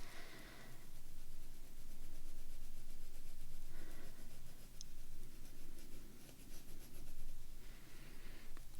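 Coloring in a paper drawing of a gingerbread house, soft, close scratchy strokes of a coloring tool rubbing steadily across paper in continuous back-and-forth passes, quiet and without talk.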